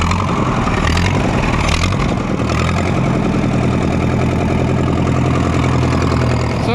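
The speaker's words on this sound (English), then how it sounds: "but we have a running tractor, and that's always a good thing." An old Oliver 60 tractor engine idles loudly and close by, slightly smoky and needing adjustment, a steady rough chugging rhythm with a deep, uneven knock throughout.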